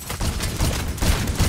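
Shotgun blasts in Call of Duty: Black Ops 6 zombies mode, a quick burst of several loud, close shots in an uneven rhythm over a short stretch, with no talking.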